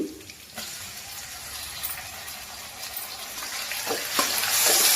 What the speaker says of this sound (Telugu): టమాటా ముక్కలు కూడా వేసేసుకుని మొత్తం ఒకసారి కలిపేసుకుందాము